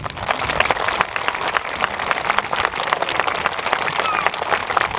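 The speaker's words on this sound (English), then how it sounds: "So let's give a big round of applause to Mr. Gosha." Outdoor audience applause at an Arbor Day gathering in the woods, a steady, dense wash of many hands clapping that holds for the whole span without letup.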